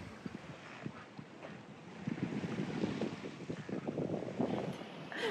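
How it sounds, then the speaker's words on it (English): Wind blowing over a sailboat in a bay as the breeze picks up, a steady broadband rush with low buffeting gusts that grow stronger halfway through, close to the microphone and without speech. "the wind has increased, so we have taken the Janaker in"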